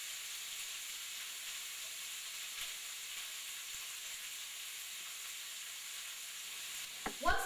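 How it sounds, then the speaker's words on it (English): Habanero-glazed shrimp sizzling in a pan, a steady quiet frying hiss throughout, with a brief clatter of utensils near the end. "It won't take long for the shrimp to cook, so we need to start flipping it as soon as we start to see it turn pink."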